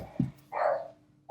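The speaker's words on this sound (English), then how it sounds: "a dog barking in the background" A dog barks a couple of times in the background, short muffled woofs at moderate distance, alone without any talk.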